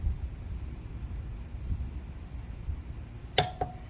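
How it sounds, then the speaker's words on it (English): A sharp, brief double click from a Craftsman 1/2-inch drive torque wrench tightening a wheel lug nut, near the end, the second click fainter, over a low steady background rumble. "we're listening for the click of the torque wrench"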